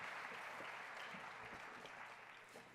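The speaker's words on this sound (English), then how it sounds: "Round of applause, ladies." A breakfast crowd at an anniversary event applauds an award presenter, a dense, even roar of clapping at a constant level throughout, heard faintly and from some distance.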